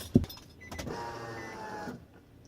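An electric fuel pump primes in a car fitted with a turbo setup: a brief thump, then a steady whirring hum with a faint whine lasting about a second before cutting off, fairly quiet and close.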